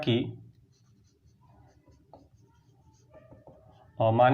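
Chalk or marker writing on a board during a class 12 maths lesson on inverse trigonometric functions, faint scratchy strokes for several seconds between bursts of a teacher's speech at the start and end.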